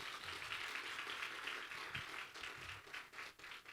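Steady applause from an audience at an accounting research conference, a dense wash of clapping hands that carries on evenly and fairly softly throughout.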